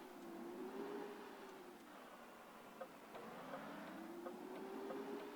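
A steady truck engine drone in the video game Grand Truck Simulator 2, rising and falling in pitch as it revs up and eases off, continuous and fairly close, with a few faint clicks.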